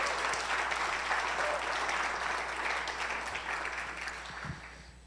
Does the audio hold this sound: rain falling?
no